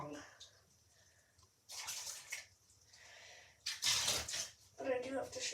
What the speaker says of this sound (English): Now I have more water to scoop.